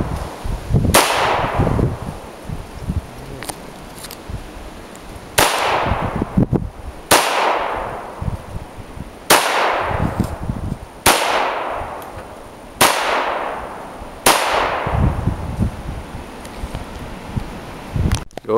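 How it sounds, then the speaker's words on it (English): Single gunshots aimed at a bottom target during outdoor target practice, about seven loud sharp cracks spaced a second or two apart, each ringing out with a decaying echo over steady background noise. "I'm gonna shoot that bottom target now."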